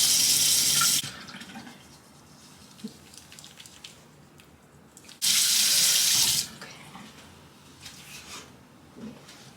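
Tap water gushes into a sink for face washing in two loud bursts, roughly a second at the start and again mid-clip, with quiet room sounds and small clatters between.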